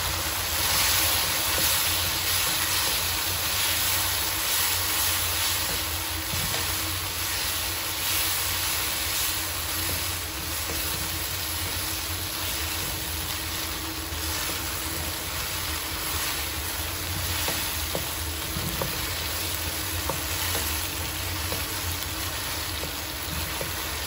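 Broccoli sizzles steadily as it is added to noodles frying in a pan for a vegetable noodle dish, a loud, continuous hissing frying noise with faint clinks, close and without talk.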